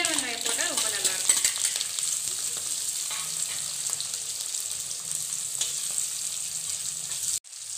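Small onions and spices frying in hot oil in a pan for a mutton fry, a loud, steady sizzle with stirring scrapes near the start, close and continuous until a brief cut near the end.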